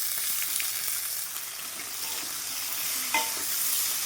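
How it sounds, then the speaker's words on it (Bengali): Potatoes and blanched pumpkin greens fry in a pan while being stirred, giving a steady, close broadband sizzle with scraping stir strokes throughout and one sharper scrape near the end. "আলুগুলোকে নেড়ে চেড়ে লাল লাল করে ভেজে নেব"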